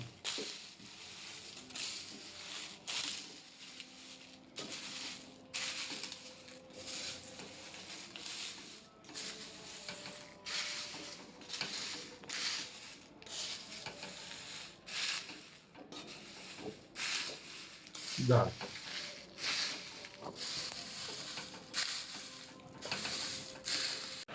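Papad pieces being stirred into frying poha chevdo at home, a steady dry rustling and scraping patter with soft crunchy rubs and occasional louder clatter, continuing throughout without talk.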